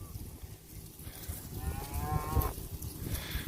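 A cow on a rented pasture gives one drawn-out moo of about a second, fairly near, over windy outdoor background.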